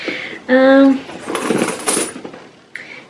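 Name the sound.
coins rattling in a bag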